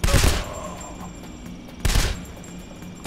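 Two short bursts of AK rifle gunfire in PayDay: The Heist, loud and close, the first at the start and the second about a second and a half later, with quieter room ambience between.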